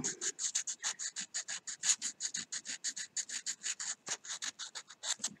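Hand-carved wooden fishing lure being sanded with coarse, stiff-grit sandpaper, a steady run of quick rhythmic rasping strokes, close and fairly loud, with no talking.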